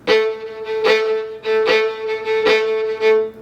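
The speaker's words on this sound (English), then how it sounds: "Sometimes you want to emphasize the 1 and the 3" A solo fiddle plays a lively reel, its bow strokes pulsing with strong accents on alternating beats, loud and close with no talking.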